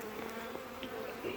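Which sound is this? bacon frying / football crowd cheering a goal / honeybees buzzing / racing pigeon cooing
honeybees buzzing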